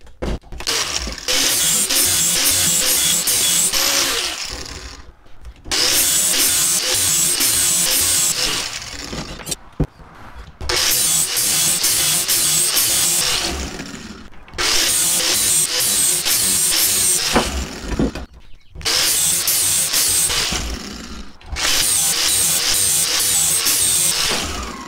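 A power tool grinding an edge onto lawn mower blades, loud harsh bursts of several seconds each separated by brief gaps, repeating about five times, close and alone without talk.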